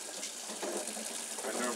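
Tap water runs over reusable Keurig coffee filters as soap is rinsed off, producing a continuous gushing hiss with small splashy shifts, moderately loud and steady across the short stretch.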